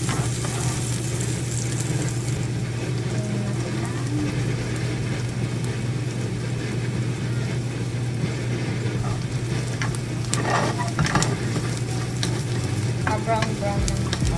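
Onion and garlic sauté in a pan for a Korean and Filipino home meal, giving a steady, close frying sizzle with occasional stirring clinks and scrapes toward the end; nobody speaks.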